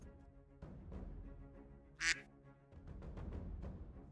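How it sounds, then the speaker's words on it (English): A single short, sharp duck quack rings out on its own in the middle of a steady, low background rumble. "The duck has returned."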